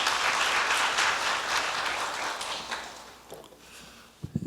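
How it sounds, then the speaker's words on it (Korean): Applause from the audience at a Korea University leader lecture series event, a dense wash of clapping that is loud at first, then thins and fades toward the end, with a few scattered claps at the close. "큰 박수로 맞아주시기 바랍니다."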